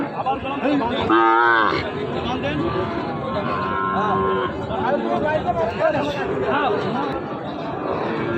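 A cow gives a loud, drawn-out moo while people chatter nearby at a cattle market, and crowd noise continues underneath.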